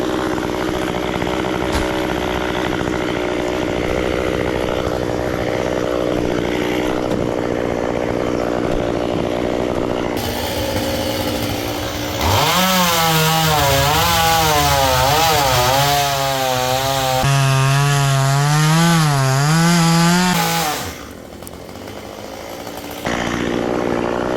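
Chainsaw cutting through a coconut tree, a steady rough engine drone that rises into a loud, revving cut with wavering pitch for several seconds, then drops back near the end.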